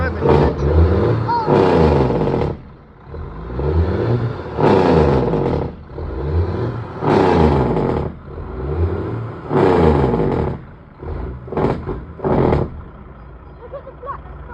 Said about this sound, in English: No, it's just revving the engine.